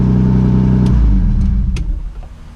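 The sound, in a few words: Lexus SC300 engine running at high idle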